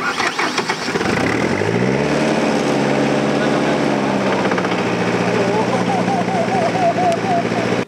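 A tractor engine cranks and catches, then settles into a steady, loud mechanical idle running close by, with people talking over it at a youth camp.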